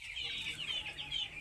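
Eleven-day-old poultry chicks in a farm shed chirp and peep continuously as a busy, overlapping chorus, heard fairly faint and steady throughout.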